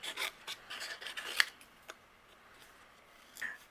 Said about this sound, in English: I'm going to go ahead and fussy cut out my images